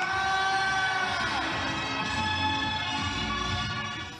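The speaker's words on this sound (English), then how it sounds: "Nice's streets have been filled with crowds of happy carnival goers showered with confetti." A large crowd at the Nice carnival parade cheers and shouts continuously, a dense wall of voices with whoops and children's cries over ringing musical tones, loud and sustained throughout.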